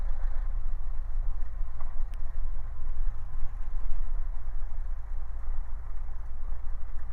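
A small training airplane's engine runs steadily at idle with a low, constant drone and no breaks or people talking.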